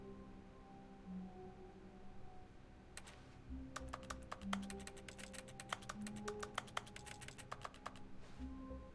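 A rapid run of keyboard-like clicks from pressing the A button in The Stanley Parable video game, a dense flurry of sharp taps lasting several seconds after a lone early click, over a soft steady drone.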